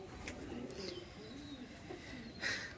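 Domestic pigeons of an old Bengali Giribaj breed coo in a loft, with soft, low, repeated throaty calls close by over a steady background hiss.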